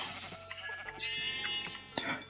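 Sheep bleating in the video game Minecraft, a couple of short, close, nasal baa calls over a quiet background.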